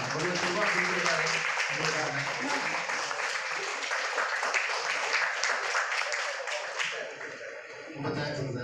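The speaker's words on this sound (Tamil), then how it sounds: "நல்லா கைத்தட்டலாம்" An audience claps at a Rotary Club installation ceremony, a sustained dense round of applause close by that tapers off near the end before a brief resurgence, with voices faintly underneath.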